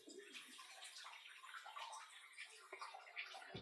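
Tap water runs steadily after a plumbing repair, a soft continuous hiss and splash with faint gurgles, quiet and close.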